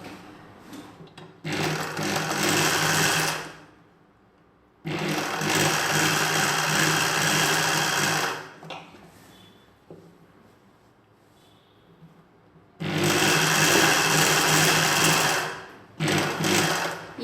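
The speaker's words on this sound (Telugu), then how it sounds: "ఇక్కడి నుండి కుట్టడం స్టార్ట్ చేసుకోవాలి" Sewing machine stitching nighty cloth, running in loud, close bursts of a few seconds each with quiet pauses between, a fast steady whir of needle and motor.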